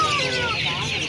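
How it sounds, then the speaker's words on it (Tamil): Native country chicken chicks and colored chicks cluck and cheep at a busy pet market, a dense chorus of high peeps close by under background chatter. "இந்த மாதிரி நாட்டுக்கோழி குஞ்சு அப்புறம் கலர் கோழி குஞ்செலாம் இருக்குது"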